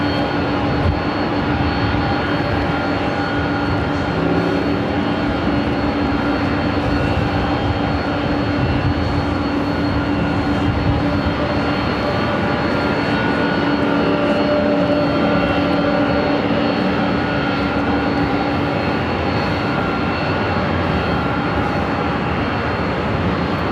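A steady, loud roar of jet engines from a Delta 767-300ER and a Delta 737 taxiing at Los Angeles LAX airport rumbles on continuously with no clear breaks.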